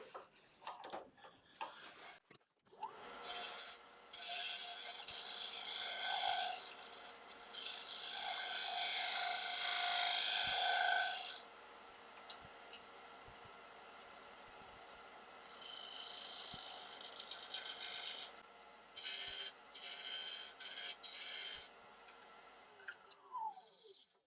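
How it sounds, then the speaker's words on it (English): A scraper on a wood lathe shaves an oak plate, a high, scratchy hiss in long sustained passes separated by short pauses, with the steady whir of the spinning lathe underneath. "Just refine that curve a little bit there. With the scraper."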